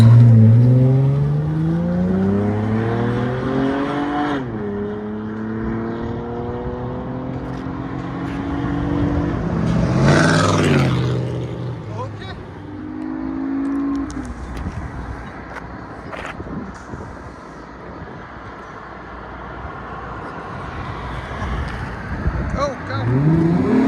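2019 Honda Ridgeline Sport with a 3.5L V6 and Yokama exhaust driving down the road, engine revving up through rising and falling tones with shifts and a throaty pull, voices talking over it at times.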